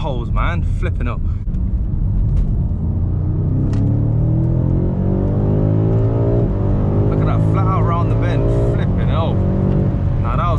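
BMW M5 Competition driving on a pothole-marked road near the speed limit, a steady loud engine and road rumble filling the cabin throughout.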